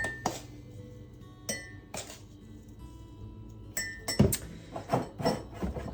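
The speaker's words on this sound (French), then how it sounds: "Je m'en mets 4 cuillères." A metal spoon clinks against a cup and jar while instant Nescafé coffee powder is scooped, with several sharp close taps and rattles spread irregularly, louder clattering near the end, no talking.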